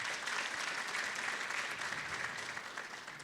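Steady audience applause at a ceremony in Ethiopia where a journalist is presented with a car, dense and sustained clapping from a sizeable crowd that fills the whole moment and eases off slightly toward the end.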